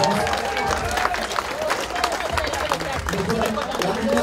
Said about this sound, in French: On applaudit encore très fort.